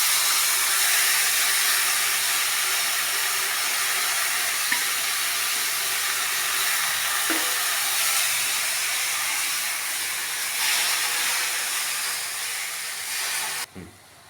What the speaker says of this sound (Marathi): आता तेलासोबत ती पण परतून घ्यायची आहे।